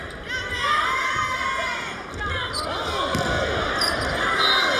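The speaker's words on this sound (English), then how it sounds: "When you can hear the oohs from the crowd of wanting two touches" Crowd at a college volleyball match between Illinois and Nebraska in Nebraska's arena, a loud sustained roar with rising oohs and a ball bounce, steady arena noise throughout with commentators talking over it.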